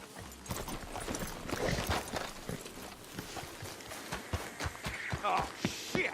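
Horse hooves clip-clop in a quick, irregular rhythm through a Red Dead Redemption 2 scene in Saint Denis, with several hoofbeats close and clear over quiet background sound.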